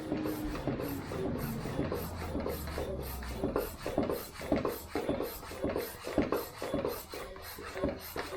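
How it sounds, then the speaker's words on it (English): A hand pump inflates a tubeless bike tyre in a quick, regular series of rasping strokes, each push giving a short whoosh, close and fairly loud. "And we will just pump this again."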